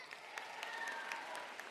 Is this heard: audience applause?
yes